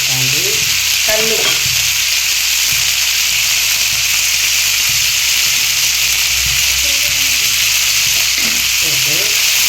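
Steady loud sizzling of tomatoes and pepper for chutney frying in a hot pan, with occasional scrapes and stirring clinks over a constant hiss.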